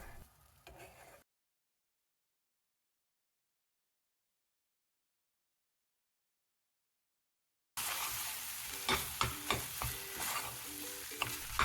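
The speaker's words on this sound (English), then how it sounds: "Make a scrambled egg and add the soaked idiyappam to it and mix well." Scrambled egg and soaked idiyappam get mixed in a hot pan, with a short burst of stirring and sizzling, a long silent gap, then louder spatula scraping and frying hiss close by.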